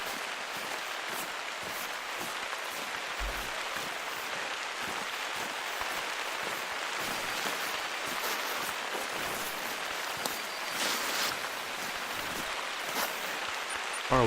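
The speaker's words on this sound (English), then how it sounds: "even we got rain now, I won't be able to hear him as well if he comes up on me" Steady rain falling in a hunting game's outdoor setting, an even hiss of patter on ground and leaves that continues throughout with little variation.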